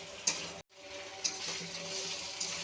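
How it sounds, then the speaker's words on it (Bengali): Ginger paste frying with potatoes in a pan, a quiet, steady sizzle broken by a few light scraping stirs and one brief gap. "আদার সাথে মিশিয়ে একটু ভাজা ভাজা করে নিব।"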